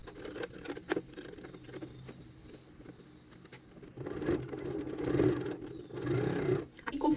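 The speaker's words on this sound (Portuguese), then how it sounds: "agora eu vou fazer essa costurinha." A sewing machine runs in short and longer bursts, stitching the pocket lining of tailored trousers, with fabric handling and small clicks between runs, close by and moderately loud, no voices.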